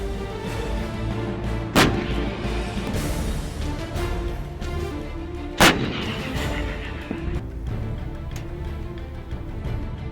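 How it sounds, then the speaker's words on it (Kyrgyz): Artillery pieces fire during a live-fire military exercise, with two sharp, loud booms several seconds apart over a low, rumbling background. "артиллериялык күжүрмөн ок атуу жыйындары"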